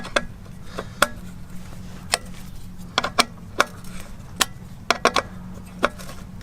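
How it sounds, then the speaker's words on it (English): Clamp bolts on a road bike crankset being loosened with a tool, giving scattered sharp clicks and ticks at irregular intervals, close and fairly quiet over a low steady hum. "First thing we're going to do is just loosen off the clamp bolts, which are nice and tight."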